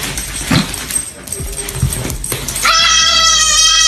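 A goat screams loudly after being provoked by a dog, with short harsh cries and yelps early on, then a long, piercing, sustained scream at the end, close and loud.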